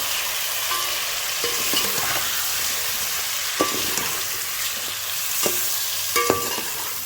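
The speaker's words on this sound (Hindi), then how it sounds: "ये सारे इसके अंदर डाल दूँगी और इसको भून लेंगे अच्छी तरह" Spices and chicken stir-frying in a pot for korma, a steady loud sizzle with occasional scrapes and clinks of a spoon stirring against the pan.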